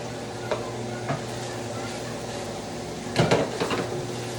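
Sausage, onions and garlic tumble into a pot of browned beef for lasagna, raising a steady sizzle marked by a few sharp spoon scrapes and clanks against the pan, nearby and with no voices.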